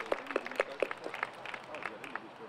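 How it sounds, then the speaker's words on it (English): Scattered applause from a small outdoor crowd at a fire station groundbreaking ceremony, with a few close, crisp claps standing out early and then a looser patter under faint voices. "that's worthy of applauding."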